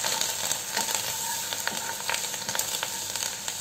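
Curry leaves and a green chilli sizzle in hot oil for a dal tadka, a steady loud hiss with small crackling pops throughout, close up and with no talking.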